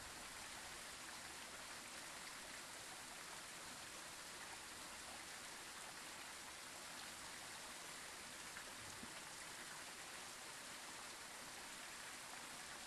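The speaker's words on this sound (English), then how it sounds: "I hear running water." Running water inside the ghost-hunting game Phasmophobia on the Sunny Meadows map, a constant faint rushing wash like a tap or stream, unchanging and steady for its whole length, with no voices over it.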